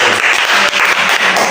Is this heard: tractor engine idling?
no